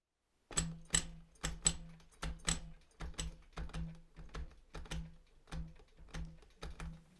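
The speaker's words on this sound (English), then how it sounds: "I'm going to play my bass drum." Muffled electronic kick pad strikes thump out in a steady rhythm, about fifteen soft hits with a clicky attack, close and fairly quiet.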